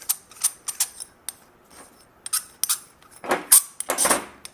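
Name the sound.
unthreading suspension adjuster ring by hand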